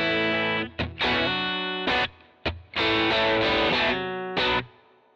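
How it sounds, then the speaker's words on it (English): Chiming electric guitar chords through a Yamaha THR10C practice amp's Class A (AC30) model with light reverb, bright and slightly overdriven, strummed in short bursts with sustained ringing notes and brief pauses between. "It's the Class A model"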